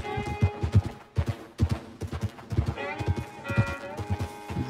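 Horse hooves clip-clop in a brisk, uneven rhythm on a trail in Red Dead Redemption 2, close and clear, with the horse's whinny and snorts mixed in.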